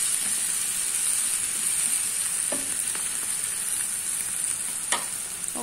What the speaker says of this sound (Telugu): ఫ్రై చేసుకోవాలండి ఈ విధంగా